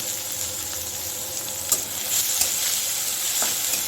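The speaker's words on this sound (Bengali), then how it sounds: "এটাকে আমি একটু ভেজে নেব" Sliced onion, nigella seeds and dried red chilli fry in hot oil with a continuous loud sizzle and crackle, occasional stirring scrapes and small pops rising over the steady hiss.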